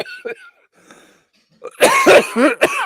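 Several loud coughs burst out close by in quick succession, rough and bursty, after a few fainter throaty sounds and breaths at the start.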